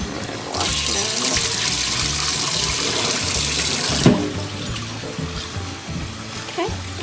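Food is washed under a running kitchen tap, a steady close hiss of flowing water filling the whole stretch, with a few faint clunks near the end.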